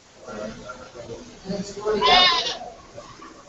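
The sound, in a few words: goats bleating on a farm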